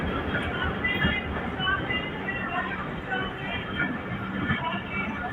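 The Mohan jo Daro Express stands at Sehwan railway station with a continuous low rumble and muffled clatter throughout, mixed with voices talking nearby.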